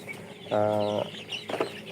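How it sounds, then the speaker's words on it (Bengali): A single drawn-out hen squawk on a chicken farm, close and clear, followed by a couple of short clucks against a quiet background. "এটা হচ্ছে আমার মুরগির খামার"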